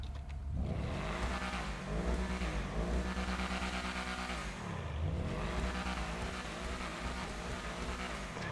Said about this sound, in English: This is one of the best sounding cars in the game, I would say.